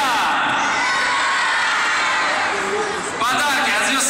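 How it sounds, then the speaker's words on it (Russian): A crowd of children at a holiday gift event shouting together in one loud sustained burst, then a second wave of cheering and screams. "просто крикните «Я!»."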